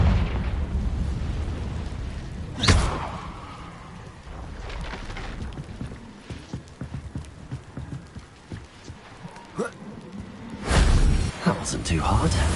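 A Confringo spell in the video game Hogwarts Legacy sets off loud, sharp explosive blasts, one near the start and a bigger one near the end, amid clattering game effects and softer bursts.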